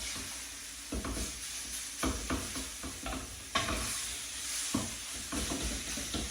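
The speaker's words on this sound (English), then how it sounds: "Fry it off." Minced meat frying in a pan over medium-low heat, a steady close sizzle broken by several scraping stirs of a utensil, with no one talking.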